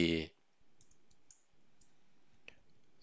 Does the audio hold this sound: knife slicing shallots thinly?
no